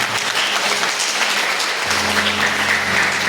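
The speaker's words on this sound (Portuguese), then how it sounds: "Aplauda Jesus por isso." A church congregation at a missions service applauds steadily, dense clapping filling the space without pause, with a low hum joining partway through.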